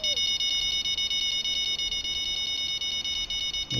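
Smoke alarm in the Fishing Planet video game at the San Joaquin Delta, a loud high-pitched electronic beep repeating in rapid, even pulses throughout with no speech.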